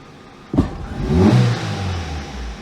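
Geely CK engine under throttle with mistimed timing marks and a crank sensor error, starting with a sharp pop, then rising into one loud rev that settles back toward a lower drone, close and alone.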